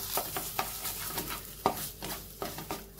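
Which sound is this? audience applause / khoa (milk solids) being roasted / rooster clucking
khoa (milk solids) being roasted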